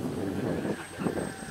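An EFXtra radio-controlled model plane drones steadily overhead on its maiden flight, a continuous electric motor buzz with faint wind noise and people chatting nearby.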